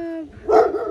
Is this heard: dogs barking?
yes